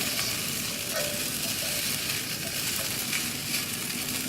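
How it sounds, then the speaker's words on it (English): Sago pearls fry in a pan, sizzling and crackling steadily, a constant hiss of frying with occasional soft pops, no voices. "So I'll continue frying this for a few minutes"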